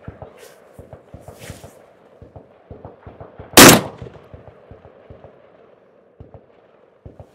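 A Beretta 1301 Mod 2 shotgun fires Federal Flight Control buckshot in one loud, sharp blast midway through, with quieter clicks and handling knocks around it.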